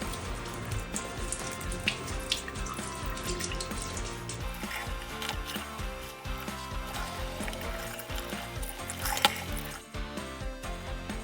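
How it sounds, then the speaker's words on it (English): Tap water runs over a leather tote's embroidery, rinsing away wash-away stabilizer, a close, continuous splashing and trickling with small shifts in the flow. "because it's wash away, we're just going to be able to run it underwater and remove the rest of it"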